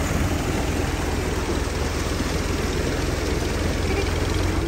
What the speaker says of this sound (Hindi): बारिश आई हुई है इसीलिए हम ट्रैक्टर ट्राली का सहारा ले रहे हैं यहाँ से आगे।